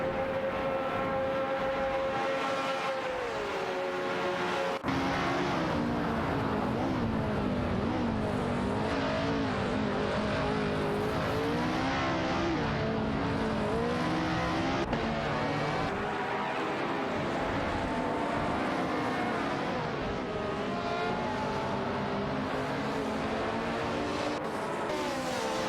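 Brabham BT24 and McLaren M4 race cars in a racing video game roar steadily at high revs, engine pitch rising and dropping through gear changes in a sustained, close, continuous drone.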